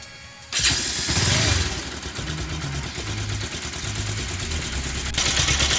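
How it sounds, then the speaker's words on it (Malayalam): A motorcycle engine kicks into life with a loud burst, then settles into a steady, close idle with a throbbing rumble. "നമുക്കിനി ബൈക്ക് ഒന്ന് സ്റ്റാർട്ട് ചെയ്യാം."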